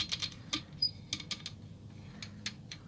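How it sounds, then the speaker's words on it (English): The ball detent on an ARROWMAX SDS Ultra Plus mini benchtop drill press vise clicks as it is turned, making a quick series of small, crisp, close mechanical clicks of uneven rhythm, quiet and free of speech. "But it's really nice, the ball detent. It's very satisfying to click."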